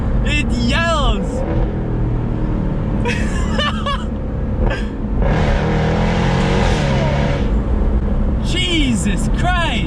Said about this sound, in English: I understand why they have the best exhaust.